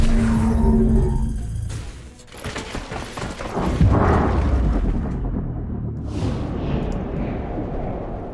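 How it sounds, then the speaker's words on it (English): A grenade detonates in the video game XCom: Chimera Squad, a loud booming blast with rumbling debris that swells and decays over several seconds, followed by lighter mechanical game effects, with no talk. "Grenade out."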